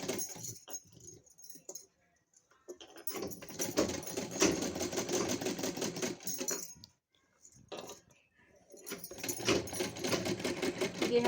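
A sewing machine top-stitches the neckline of a plain net party gown in uneven bursts, running for a few seconds, pausing, then starting again, with faint clinks of handling between the runs.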